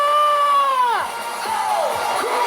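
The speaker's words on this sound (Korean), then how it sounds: "힘찬 박수 부탁드리도록 하겠습니다" A crowd at a Korean political rally cheers and shouts loudly as a singer is brought on, with a long raised group yell that drops off, followed by scattered whoops over continuous crowd noise.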